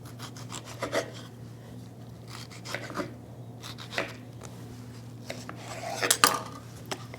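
A knife cuts garden tomatoes into smaller pieces on a board. Quiet, close slicing and scraping strokes come in irregular taps and rubs over a low steady hum, with a sharper clack near the end.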